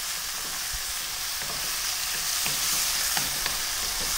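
Marinated pork belly sizzling and frying in a pan, a steady close crackle with scattered pops and light scraping, no voices.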